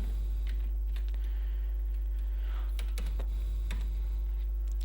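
Someone types on a computer keyboard in scattered bursts of close, sharp keystrokes over a loud, steady electrical hum.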